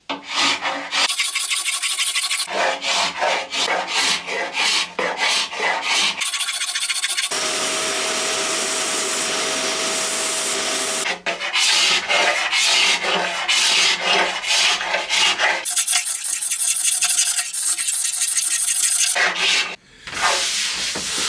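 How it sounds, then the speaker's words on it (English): A scraper drags old finish off the wooden top of a piece of Ercol furniture in long, steady rasping strokes, loud and close, with a few short pauses between passes and no voices. "Right, so strip the top, or scrape the top."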